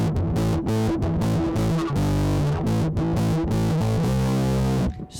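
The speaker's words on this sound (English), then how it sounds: "This is a fuzz pedal." An electric guitar plays a short riff through heavy fuzz distortion, thick buzzy chords and notes cutting off sharply, ending abruptly.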